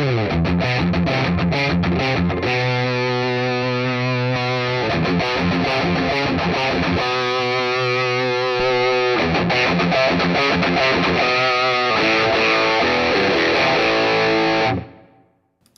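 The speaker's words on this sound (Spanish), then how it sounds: "hay un overdrive, vamos a intentar de pronto, a ver" Overdrive guitar tone from a NUX Amp Academy amp and cab IR emulator, with sustained distorted chords and riffs ringing continuously for about fifteen seconds, then cutting off abruptly.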